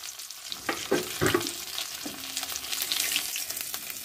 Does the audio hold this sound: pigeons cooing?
no